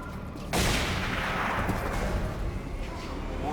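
Gunfire from the video game Bulletstorm bursts in abruptly after a brief quiet moment, then continues as a dense, loud rattle of shots and blasts that slowly fades into a washy rumble.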